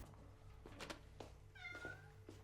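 A cat meows once, a drawn-out rising and falling call, faint and somewhat distant over a low hum and a few soft knocks.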